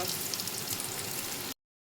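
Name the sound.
bitter gourd frying in pan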